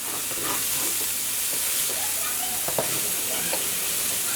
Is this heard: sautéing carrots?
yes